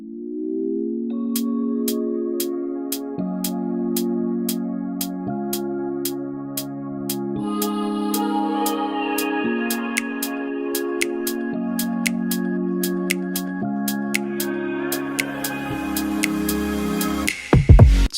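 Electronic track's opening section with sustained bass synth chords stepping through changes under a steady ticking high hat-like pulse, building denser toward the end with a brief drum hit at the close; no voices.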